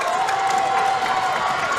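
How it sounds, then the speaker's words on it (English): A crowd at a girls' high school basketball playoff game in a gym, Central Columbia against Shamokin, roars and cheers after a three-pointer, a loud steady wash of voices with a whistle-like tone running through it. "listen to this crowd"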